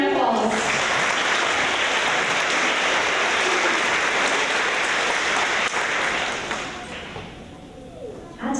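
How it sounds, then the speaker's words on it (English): Audience applause at a school fourth grade awards ceremony, a dense sustained clapping that fills the room for about seven seconds before thinning out near the end. "Let's give him a round of applause."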